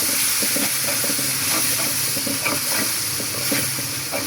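Rohu fish roe dropped into a pan of well-fried sizzling spice paste, giving a steady loud hiss and crackle with small bursts of spatter, no voices.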